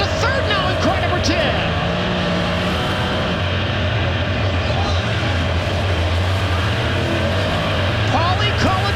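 Sprint cars racing on a slick dirt track at Weedsport, New York, in a World of Outlaws event, engines roaring continuously and loudly as the field circles, with a commentator talking over the din.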